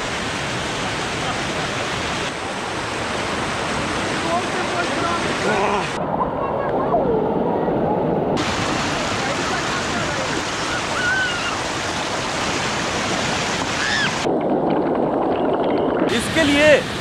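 Water rushes steadily at the Telhar Kund waterfall in Kaimur, Bihar, a constant loud hiss and roar that continues under people talking.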